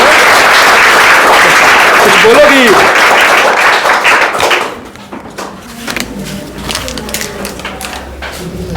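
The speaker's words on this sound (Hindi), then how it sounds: "ताली बजाओ भाई इसके लिए।" Loud, dense applause from an audience of class 12 students at a coaching class event, lasting about four and a half seconds before cutting off, with voices speaking over it and continuing afterward.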